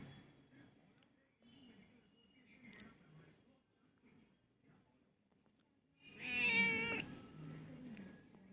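Pet cat meowing once loudly and close near the end, after quiet stretches of faint soft vocal sounds and low background rustle.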